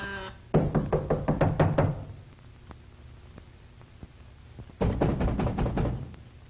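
Knocking on a door in a 1933 Hollywood film: two loud bursts of rapid knocks, each about a second and a half long, with a quiet pause between them.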